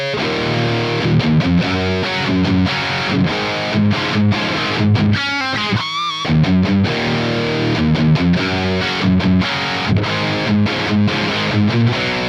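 Heavily distorted electric guitar plays chugging riffs with short stops, recorded through impulse responses of an oversized slanted Mesa cabinet miked with a Sennheiser MD421, loud and continuous.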